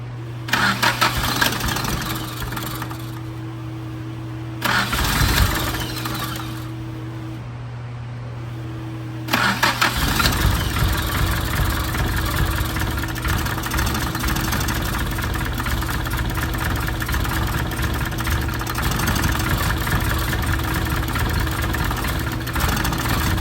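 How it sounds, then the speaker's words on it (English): A Mitsubishi 4G64 DOHC engine cranks over several times and then fires up, running rough and uneven on only a few cylinders, a loud close idle that keeps going to the end. "she's definitely running on a couple of cylinders"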